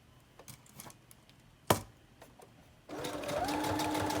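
A sewing machine running a long, wide zigzag stitch through layered paper strips with peach thread, starting after a few taps and a sharp clack, then whirring steadily and close until the end.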